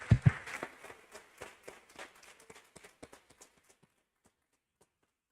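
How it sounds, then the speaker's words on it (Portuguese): A congregation applauds at a Sunday church service. Scattered, fairly faint claps thin out and taper off to near silence over several seconds. "Aplauda o Rei."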